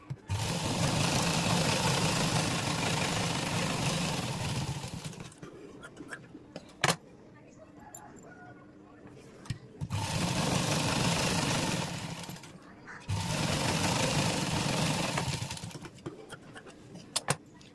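A sewing machine stitches blouse lining in long steady whirring bursts, running about five seconds, then three, then four, with quiet pauses and small handling clicks between them; close and clear, with no voices over it.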